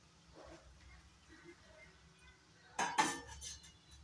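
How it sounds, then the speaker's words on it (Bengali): A metal wok is set down on a kitchen stove with a clattering clank and a short rattle of cookware, preceded by faint kitchen sounds. "এখন এখানে অন্য একটা কড়াই বসিয়ে দেবো।"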